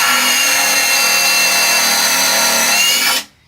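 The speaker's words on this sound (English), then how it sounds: "I drill a pilot hole with my super secret countersink" A power drill bores a pilot hole with a countersink bit into a sharply angled wood joint for SPAX screws, a steady loud high whine running continuously for about three seconds before stopping abruptly.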